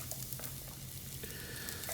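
Onions hitting hot oil in a pan for a corned beef egg shakshuka give a soft, steady sizzle, faint and continuous, with a few light scrapes.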